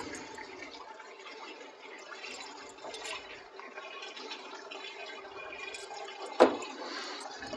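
Cold tap water runs steadily over cyanotype paper being rinsed, a soft continuous splashing and trickling close by, with a brief sharper splash near the end.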